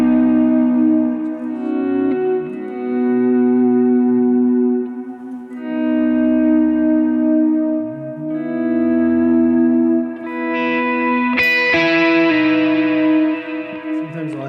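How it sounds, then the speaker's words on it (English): Electric guitar chords ring out drenched in lush reverb and echo, sustaining and overlapping, with a bright strummed flourish near the end. "And then I'm just applying some rich reverb to it."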